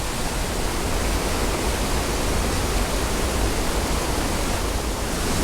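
Waterfall in a creek gorge gives a steady, loud, broadband rush of falling water with no break or voices.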